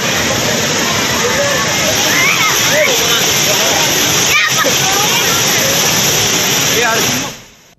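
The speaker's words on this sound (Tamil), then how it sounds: "குற்றாலம் புலி அருவியில் காட்டாற்று வெள்ளப்பெருக்கை பொருட்படுத்தாமல் சுற்றுலா பயணிகள் குளித்தனர்" The flooded Puli waterfall at Courtallam roars as a loud, dense, continuous rush of water, steady throughout before cutting off at the end.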